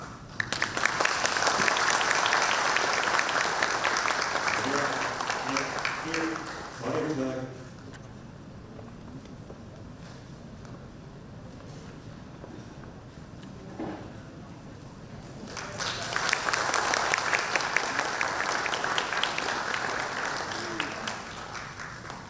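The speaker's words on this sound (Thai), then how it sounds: "ขอเสียงปรบมือให้กับ" Applause from attendees at an Olympic committee meeting swells loudly, drops away while a voice speaks over a quieter room, then rises again into sustained clapping near the end.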